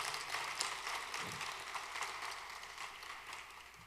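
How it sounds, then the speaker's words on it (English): Audience applause at a forum keynote event, a steady wash of clapping at moderate distance that carries evenly for several seconds without talk. "Give our speaker, Veronica Johnson, a great round of applause"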